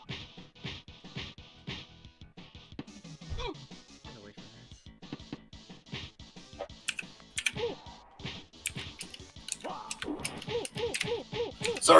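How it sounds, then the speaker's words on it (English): Clicky computer keyboard typing rattles along in quick, irregular bursts over a video game boxing match, fairly close and moderately loud, with game sounds and a voice mixed in. "I'm typing to people right now at the moment while I'm doing this"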